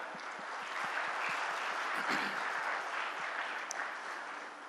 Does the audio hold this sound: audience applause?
yes